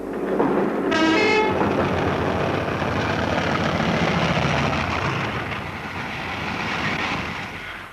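A diesel locomotive train passes close by, with a short horn blast near the start followed by a loud, continuous rumble and roar of engine and wheels that slowly eases toward the end.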